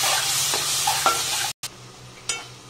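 Noodle sauce of soy sauce, white vinegar and tomato sauce is stirred in a hot pan, a continuous close sizzle with a few scraping clinks of a utensil against the metal and a brief cut in the middle.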